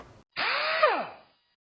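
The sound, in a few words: 10mm socket removing Dodge Ram exhaust manifold bolts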